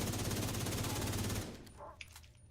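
Enemy automatic gunfire in The Division 2 rattles as a rapid, steady loud burst for over a second, then stops abruptly, leaving a few faint clicks and scattered noise.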